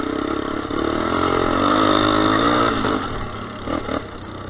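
A 1986 Suzuki SP200 motorcycle engine running close by, a steady droning idle that swells slightly as it revs, then eases back with some small clunks.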